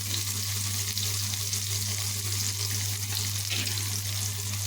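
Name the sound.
onions frying in a pan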